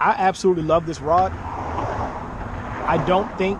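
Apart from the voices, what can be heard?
car passing on a busy country road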